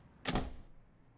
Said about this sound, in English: Sounds like this switch just opened something nearby.